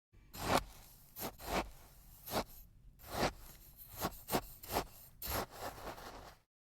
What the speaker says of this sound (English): It's a spade digging in the sand.